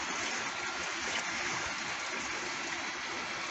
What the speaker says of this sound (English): pump some of this water out.